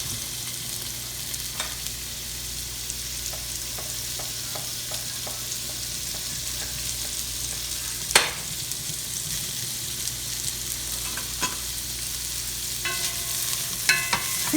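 Bacon frying in a pan for frijoles charros gives a quiet, steady sizzle with faint scattered pops and a few light utensil clicks, heard alone without talk.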